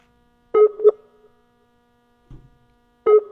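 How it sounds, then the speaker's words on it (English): Telephone ringback tone heard while calling a number, two short humming ring bursts separated by a long silent gap, loud and close over a quiet line, with a faint low click between rings. "It's just ringing."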